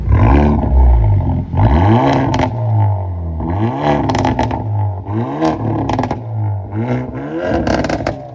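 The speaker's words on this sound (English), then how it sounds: "let me get a couple revs while we're still straight pipe real quick" Straight-piped Hyundai Elantra N exhaust revved hard several times in a row, loud and close, with rising and falling roars and crackling between blips, no talk.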